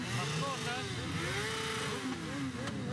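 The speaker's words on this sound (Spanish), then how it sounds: "escuchan los motores, esto seguramente te gustará a vos, Dexter" Motorcycle engines revving and accelerating at close range at a charity motorcycle caravan, a steady mechanical roar with rising and falling pitch, voices faintly mixed in.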